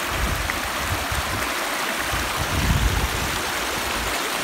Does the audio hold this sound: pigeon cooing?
no